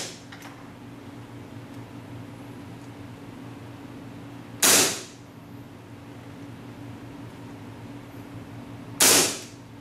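An airsoft M&P full-auto-capable pistol with a compact magazine fires in semi-auto mode. Two sharp, loud single cracks sound several seconds apart over a low steady mechanical hum, with no talk.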